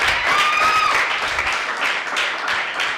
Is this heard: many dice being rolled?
no